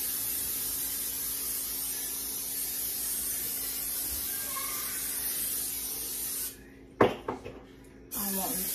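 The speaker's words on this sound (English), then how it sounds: "Spray my pan." Cooking spray hisses steadily onto a baking pan in a home kitchen for several seconds before stopping, followed by a few close knocks and clatters.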